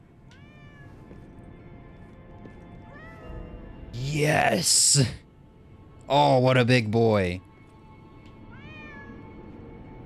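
A cat in the video game Lies of P meows in two loud, drawn-out calls a couple of seconds apart, with a quieter chirp before and after, while a person talks over the scene.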